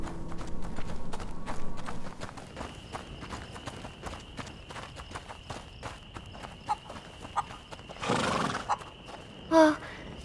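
A horse in the video game A Plague Tale: Innocence stands in a quiet night setting, hooves shuffling faintly before one short, clear neigh near the end; soft ambient tones and rustles fill the background.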